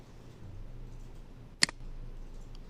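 A single sharp computer mouse click while working in Mastercam, alone against a faint low hum.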